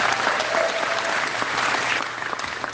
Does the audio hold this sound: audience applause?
yes